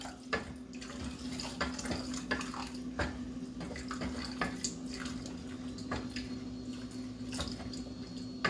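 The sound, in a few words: hot water poured into a pan for a sauce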